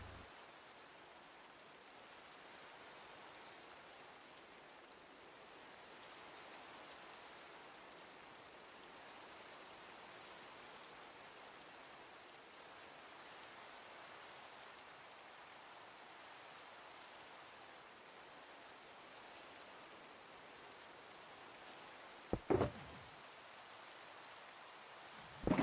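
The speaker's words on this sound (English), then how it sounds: "Oh, it rains here?" Rain falls in a modded Minecraft survival world as a soft, even hiss of steady downpour, faint and unbroken, with a couple of brief clicks near the end.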